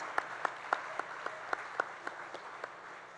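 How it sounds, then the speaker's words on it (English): A sparse audience at a gala awards dinner claps for a spoken word artist, about a dozen distinct claps in a loose, slowing rhythm over a soft, steady room murmur, moderately distant and fairly quiet. "let's give a hand or a round of applause to our spoken word artist, Zakia Gill"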